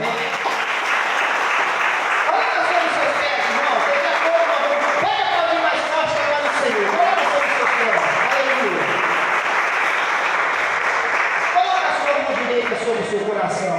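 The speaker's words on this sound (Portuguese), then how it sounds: "Louva Ele com suas palmas, amém?" A church congregation claps loudly and continuously during an evangelical service, rhythmic applause filling the room while a voice sings or speaks over it.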